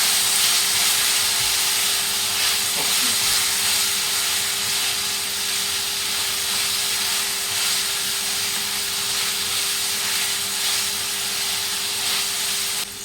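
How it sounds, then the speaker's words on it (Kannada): Potatoes fry in a pan with salt and turmeric, giving a loud, steady, close hiss of oil that holds unbroken throughout with no voices. "ಸೊ ಚೆನ್ನಾಗಿ ಆಲೂಗಡ್ಡೆನ ಫ್ರೈ ಮಾಡ್ಕೋಬೇಕು"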